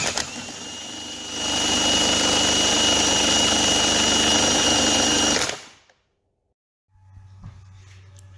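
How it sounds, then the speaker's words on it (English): An air gun spins a car alternator on an Alfa Romeo GTV, a loud, steady high-pitched whirring whine that ramps up, holds for several seconds, then winds down and stops, leaving a faint low hum. "I am just using the gun to turn the alternator"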